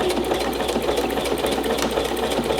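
A sewing machine stitches the end bar of a buttonhole on fabric for a drawstring elastic waistband, a rapid, steady mechanical whirring and ticking close by, running continuously without talk.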